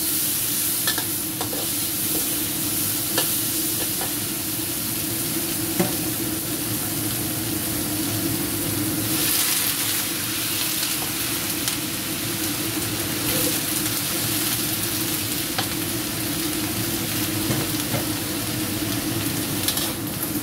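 Tomato being stir-fried with white cabbage in a homestyle oseng dish, giving a steady, loud, continuous sizzle with faint scrapes of stirring and no voices.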